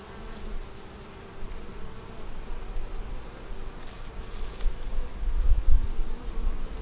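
Honey bees hum and buzz steadily around hive frames full of brood and young larvae, a close, continuous drone that swells slightly louder toward the end, with a faint handling bump near the close.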